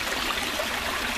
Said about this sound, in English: you can see the stream there. It runs down into the waterfall